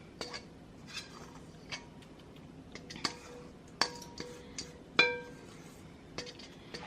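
Spoon scraping a vegan granola mixture out of a bowl, giving a scattered series of sharp, close clinks and taps at irregular intervals, fairly quiet overall.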